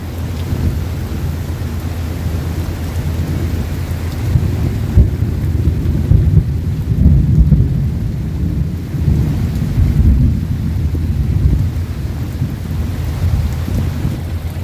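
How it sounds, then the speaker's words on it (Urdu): Heavy rain pours steadily with low rumbling thunder rolling underneath, swelling midway through, recorded outdoors near the bank of the Chenab River, with no voices. "یہ آپ دیکھ رہے ہیں کہ شدید بارش جو ہے وہاں پر"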